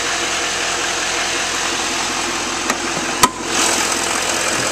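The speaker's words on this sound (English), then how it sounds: "this truck sounds great and it runs very smooth." A 2011 Chevrolet Silverado 2500 pickup with a 6.6L LML diesel engine idles steadily and smoothly at close range, with a couple of brief clicks partway through.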